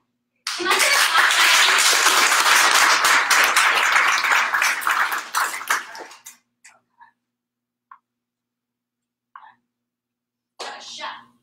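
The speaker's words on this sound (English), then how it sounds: "Can I get a clap?" An audience at a Sunday spiritual service claps together in a loud, close burst lasting several seconds, then stops abruptly, leaving silence broken by a few scattered small sounds and a brief final noise.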